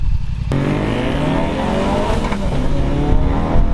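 A 400 hp Ford Focus RS engine roars loudly as it accelerates hard from a standstill using launch control, its pitch climbing steadily, heard up close.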